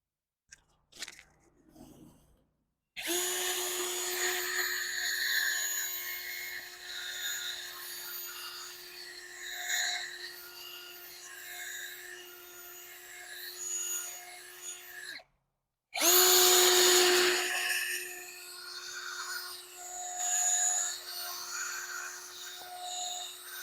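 A power sander with 500-grit paper whirs against a BMW Z3 headlight lens in long sustained runs, stopping briefly and starting again, close and loud with a steady hum.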